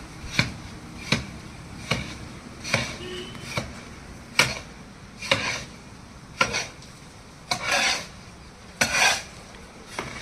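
A shovel scrapes and turns through a pile of coconut tree fertilizer, about fifteen gritty scoops in a steady rhythm, close and fairly loud, with no voices.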